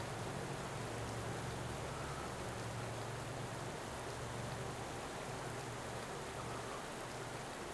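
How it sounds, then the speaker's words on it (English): Rain falling in the cycling game Pro Cycling Manager 2018, a faint, even hiss of steady downpour with no talk over it. "here comes the rain"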